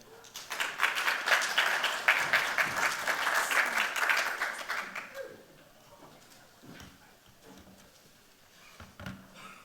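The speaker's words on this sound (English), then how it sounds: "a big applause for XR Cupid" A crowd at a startup pitch showcase claps loudly for about five seconds, then the applause drops away and only faint room noise and a few soft bumps remain.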